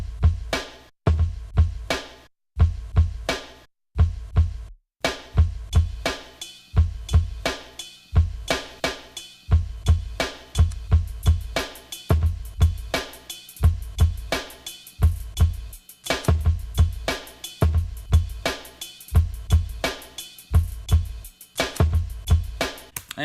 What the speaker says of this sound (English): we're going to start with a kick and a snare